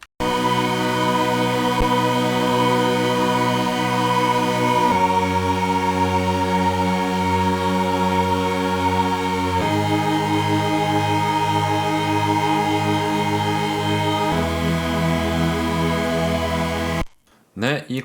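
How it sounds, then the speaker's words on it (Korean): A chord synthesizer patch built in Serum, with slight pitch control at each chord change, sustains dense held chords over a low bass, changing roughly every five seconds, loud and continuous before cutting off near the end. "그 후로 추가된 악기의 코드 신디사이저 한번 확인할게요."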